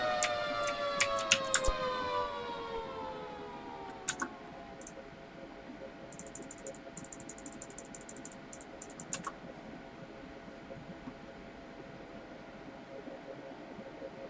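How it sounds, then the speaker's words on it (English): An air raid siren in a flying video game wails in falling sweeps at the start, then fades to a low background drone, with scattered clicks and ticks over the top. "I hear other sirens."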